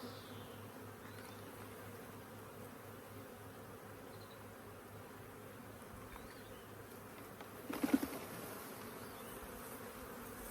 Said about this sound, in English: They're fairly settled, these bees actually